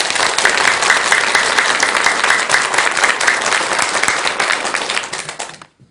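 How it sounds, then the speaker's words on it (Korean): An audience at a Buddhist lecture gives loud, sustained applause of many hands, steady for several seconds before fading out quickly at the end. "전국의 대덕 큰 스님들께 감사하는 마음으로 큰 박수 한번 주시기 바랍니다."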